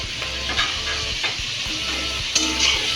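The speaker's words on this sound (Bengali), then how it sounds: "সবগুলো দিয়ে এখন আমরা কিছুক্ষণ নাড়ব।" Spices are stirred into chicken curry in a hot pot: a close, steady sizzle of frying with repeated scraping stirs over about three seconds, and no voices.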